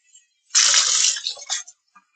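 Water pours for about a second into a cup for children at home, a close, steady splashing stream that tapers off into a few brief trickles and drips before silence.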